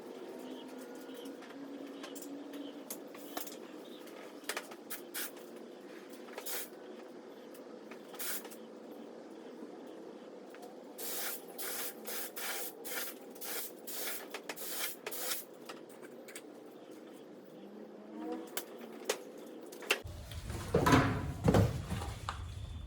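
A spray gun lays clear coat on the left-hand rear door of a VK Commodore Brock tribute car, giving repeated hissing bursts of varying length, close and fairly loud, ending in a louder, rougher spray.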